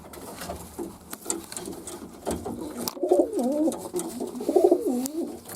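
Young racing pigeons coo close by in a loft in a steady series of soft, throaty rolling calls over a low background hum.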